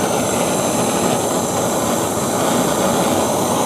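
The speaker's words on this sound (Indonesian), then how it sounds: "ini mesin las dari gas melon" A welding machine powered from a small LPG gas cylinder runs as a steady, loud, continuous roar and hiss with no pauses, heard alone without voices.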